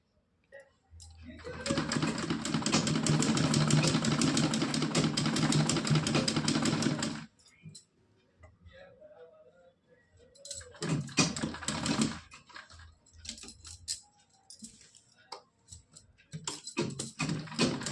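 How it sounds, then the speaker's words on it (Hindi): A sewing machine stitches a cotton dress for a Laddu Gopal idol, running in a loud, fast continuous rattle for several seconds, then starting again in shorter bursts separated by pauses. "तो इसकी सिलाई लगाकर हम दिखा रहे हैं।"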